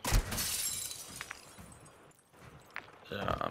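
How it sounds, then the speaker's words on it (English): Glass shattering in the Warzone video game, a crash of breaking panes amid gunfire-like bursts and game ambience, with brief clinking accents and players' voices in the background. "Broken glass here."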